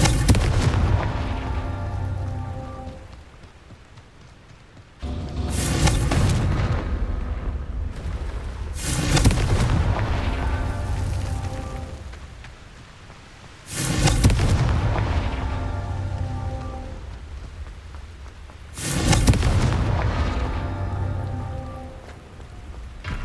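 Confringo explosion spells going off in Hogwarts Legacy, four loud blasts spaced several seconds apart, each a sharp burst followed by a crackling, rumbling tail under a steady game ambience.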